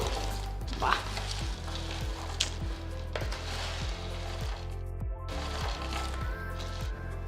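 Crispy cabbage pakodi with green chillies and curry leaves deep-fry in hot oil with a loud, continuous crackling sizzle heard up close, over a low rhythmic tonal hum.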